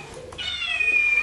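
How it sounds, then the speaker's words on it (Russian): Playful kittens at a cat show give a single clear, high-pitched meow close by, rising and then trailing off over faint hall background noise. "Такие игривые котята."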